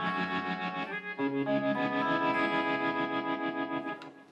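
An electric guitar through a Line 6 Helix plays sustained chords with a pulsing optical tremolo, light overdrive, echoing vintage delay repeats and a wash of plate reverb, moderately loud and alone.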